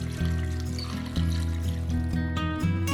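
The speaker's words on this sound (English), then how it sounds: "next we want to add water all the way to the max line" Water pours steadily into a pot, a continuous splashing stream whose pitch shifts slightly as it fills.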